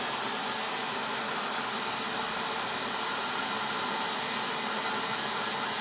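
A heat gun blowing hot air onto a plastic M-LOK rail for a SCAR rifle, a loud, steady, close whooshing hiss that holds unbroken the whole time.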